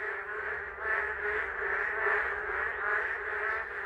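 Chorus of male spadefoot frogs calling at a forest rain pool, a dense, continuous trilling din of many overlapping voices holding steady throughout with slight rhythmic swells, moderately close and with no talking.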